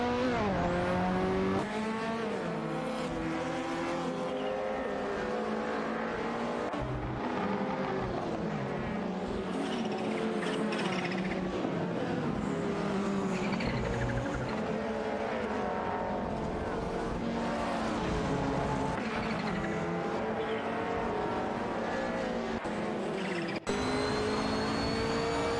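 Lancia Delta S4 and Metro race cars accelerating hard in a racing video game, with a loud, continuous layered engine whine that rises and shifts in pitch and a hint of tire squeal, sustained throughout.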